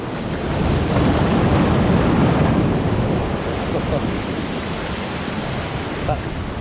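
Sea waves surge and break over black shore rocks, a loud continuous broadband roar that swells early and then settles into steady rushing surf, with wind noise buffeting the microphone.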